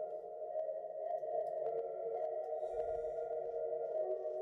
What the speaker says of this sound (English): there's a filter preset on this one, and it makes it sound so creepy.